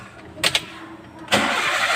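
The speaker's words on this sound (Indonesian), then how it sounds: "Coba start dulu, mana tahu payah." Engine of a Toyota Avanza / Daihatsu Xenia starting, with two short cranking bursts followed by the engine catching into a steady idle, close and moderately loud.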